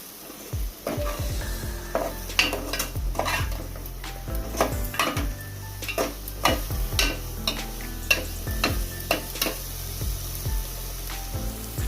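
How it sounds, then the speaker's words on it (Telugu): Broad beans tipped into a pan of fish curry and stirred, with repeated clinks and scrapes of a spoon against the pan over a soft sizzle, steady and close for the whole stretch. "ఇప్పుడు చిక్కుడుకాయలు వేసేద్దాం."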